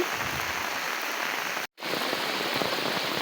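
Steady rain pours down outdoors during the evening, a dense continuous hiss of drops on surfaces that cuts out abruptly for a moment before resuming just as loud.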